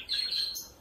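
A budgerigar in a breeding cage gives a single short, high, bright chirp, close by and fairly soft.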